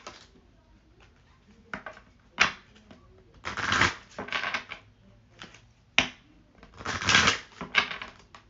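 Tarot cards being shuffled by hand in bursts of crisp riffling and slapping, fairly close and quiet, with short pauses between shuffles.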